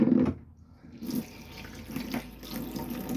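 Water runs from a tap into the sink of a Sterling Opal Elite motorhome bathroom, a steady close splashing flow that drops briefly, then continues evenly.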